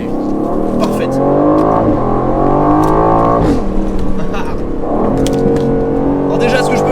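An Aston Martin Vantage accelerates hard at the Nürburgring, its engine note climbing and dropping through several gear shifts, loud and close-miked with steady road and wind roar underneath.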